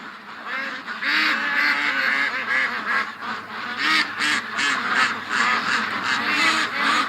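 A flock of ducks in the bush quacks and honks loudly and repeatedly, with overlapping calls forming a busy, close chorus throughout.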